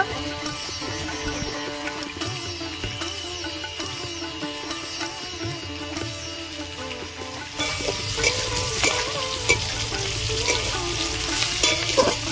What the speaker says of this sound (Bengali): ডিম কড়াইগুলো আমি অর্ধেক ভেজে নিয়েছি